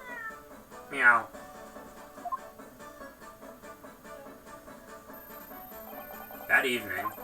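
A game cat gives two short, clear meows a few seconds apart, layered over a quiet musical score in a Victorian-era detective courtroom adventure.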